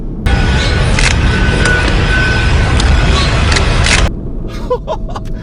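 A Volkswagen Golf R Mk7 with DSG gearbox accelerates hard, a loud sustained engine roar with rising pitch lasting about four seconds, then cutting off abruptly into quieter cabin noise with faint voices.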